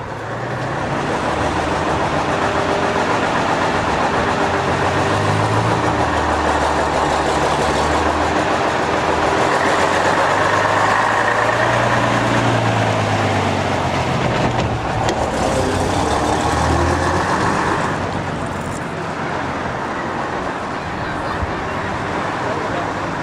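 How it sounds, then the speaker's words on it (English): A heavy Gardner 6LW diesel bus engine rumbles steadily throughout, a low throbbing drone with shifting mechanical tones, loud and close, with no pauses. "power is provided from a Gardner 6LW engine"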